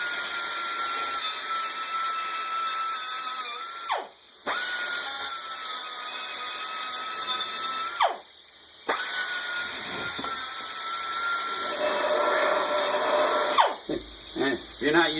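A grinder with stones runs against a generator exhaust pipe, making a sustained high-pitched whine broken by a few brief stops and shifts in pitch as the tool bears on the metal.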